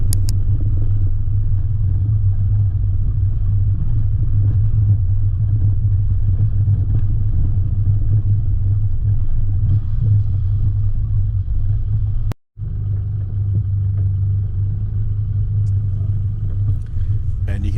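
A 4x4 engine idling low and steady in low range gearing while descending a steep track from Mt Sarah to Crooked River, a loud continuous rumble with a brief cut midway, with a person talking over it.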